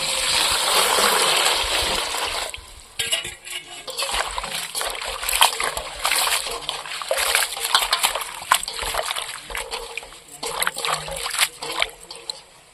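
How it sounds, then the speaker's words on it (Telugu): Mint leaves being washed in water, with close, irregular splashing and sloshing that is heaviest at the start, then continues in uneven bursts. "ఇప్పుడు రెండు మాటలు నీళ్ళు పోసుకొని నీట్గా అయితే కడుక్కున్నాము"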